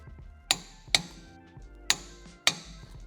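A torque wrench set to 100 Nm tightening recovery point bolts on a Suzuki Jimny, giving four sharp metallic clicks spaced unevenly over a few seconds, close and distinct against a quiet background.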